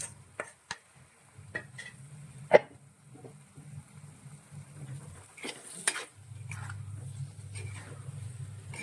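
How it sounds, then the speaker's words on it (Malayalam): Fried fish added to a curry and stirred in a pan, with scattered spoon scrapes, soft clinks and a sharp knock among faint low bubbling. "ഇനി ഇതിലേക്ക് നമ്മൾ വറുത്ത് വെച്ചിരിക്കുന്ന മീൻ കൂടി ചേർത്ത് കൊടുക്കാം"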